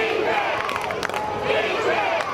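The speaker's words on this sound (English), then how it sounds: "And the crowd getting into it here on the Bulldog side." High school football crowd on the Bulldog side at a Milan versus Dyersburg game, a loud, sustained roar of cheering and shouting voices with some yelling rising above the mass.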